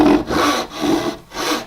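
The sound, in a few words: hand saw cutting a dovetail in wood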